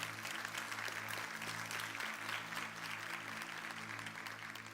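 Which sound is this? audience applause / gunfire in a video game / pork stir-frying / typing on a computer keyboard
audience applause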